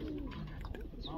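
Pigeons at a pigeon-flying competition coo softly in the background, low burbling calls mixed with faint chatter and ambient noise.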